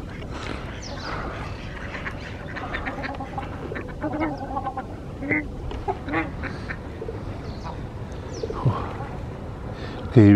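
Mallard ducks and ruddy shelducks call from the water outdoors, giving repeated quacks and honking calls over a busy, noisy background. Faint voices may be mixed in.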